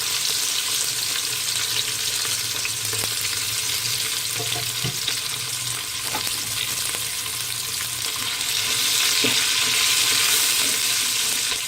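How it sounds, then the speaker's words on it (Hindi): Three to four onions fry in a quarter cup of oil for beef nalli biryani, giving a steady, loud sizzling hiss throughout with faint scraping and stirring clicks scattered underneath. "जब तक ये प्याज थोड़ी ब्राउन हो रही है"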